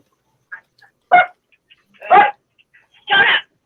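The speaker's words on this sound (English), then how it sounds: "Dog." A dog barking indoors, three separate loud, close barks spaced about a second apart, with faint softer sounds between them and no talking.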